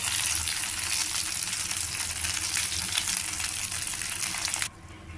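Brinjal curry stuffed with fenugreek chili powder fries steadily in a pan, a dense continuous sizzle, close and loud with no voices, that drops off abruptly near the end.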